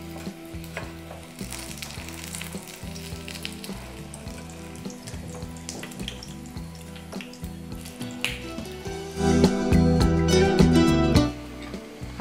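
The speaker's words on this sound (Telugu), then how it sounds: "మొదట హైలో ఉంచుకుని మనం కటోరీ వదిలిన తర్వాత నూనె కొద్దిగా తగ్గించుకుంటే దోరగా గోల్డెన్ షేప్లో మన కటోరీలు రెడీ అయిపోతాయి." Chapati dough katori cups frying in hot oil, a continuous crackling sizzle with scattered pops that swells suddenly louder and denser near the end, heard alone without talk.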